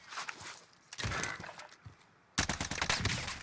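Bursts of gunfire in Call of Duty: Warzone, with sharp, loud broadband shots and a dense rapid burst near the end, over game ambience.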